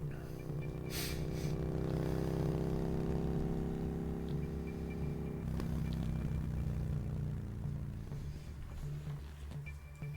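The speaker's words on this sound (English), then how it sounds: "Engine approaching." Vehicle engine running low and steady at a middle distance, a continuous rumble with faint clatter and a shift partway through, no voices.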